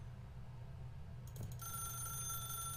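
Telephone ringing in the video game The Stanley Parable: an office phone bell starts partway through over a low room hum, a brief trill then a sustained bright ring, alone without voices.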